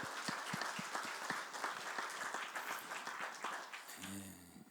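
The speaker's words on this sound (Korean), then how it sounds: "우리 성령님께 감사의 박수 한번 힘차게" Enthusiastic applause from a church congregation during a late-night Friday worship service, dense steady clapping throughout before stopping abruptly, with a brief low tone at the very end.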